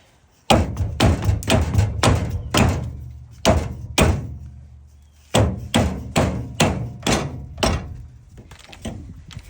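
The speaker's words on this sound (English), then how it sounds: "So you might have to pound them out." Metal hammer blows pounding rusted wheel studs out of a 1996 Mitsubishi minicab kei truck hub, sharp loud strikes in rapid bursts with a brief pause between two series.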